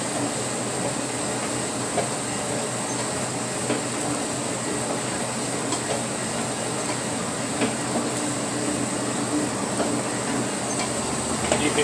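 A stand mixer kneads sticky bread dough with a loud, steady motor whir and hiss that runs unbroken from start to finish, with no voices.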